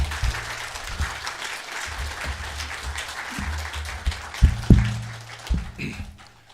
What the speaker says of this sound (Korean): 우리 김신환 선교사님 나오셔서 말씀 전해 주실 때에 우리 한번 큰 박수로 환영하고 우리 격려 드렸으면 좋겠습니다.